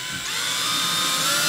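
A power drill drives long screws into an in-wall speaker, its motor whining steadily and building slightly in loudness up close, with no talk.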